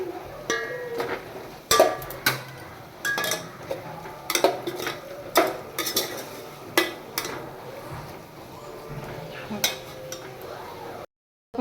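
A spoon stirs and mixes masala rice in a pan, scraping and clinking against the metal in an irregular rhythm of close, distinct knocks with a few short pauses.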